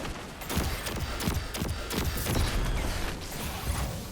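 Rapid hand cannon gunfire in Destiny 2 PvP, a run of loud, punchy shots with booming low ends and some mechanical clatter, firing steadily throughout.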